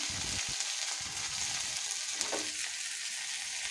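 Green chilies fry in hot oil with cumin and mustard seeds, giving a steady close sizzle with a brief stir near the middle and no talking.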